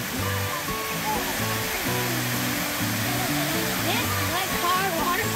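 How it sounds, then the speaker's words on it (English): Glencar Waterfall in Ireland pouring down in a steady, broad roar, heard alongside voices and musical tones layered over the rush of water. "Glencar Waterfall."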